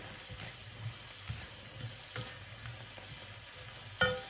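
Onions and chorizo fry in a pan, a faint steady sizzle broken by a few soft clinks and scrapes of stirring, with no talk.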